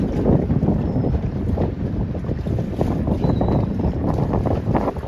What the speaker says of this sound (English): You can see by the flags, it's pretty windy.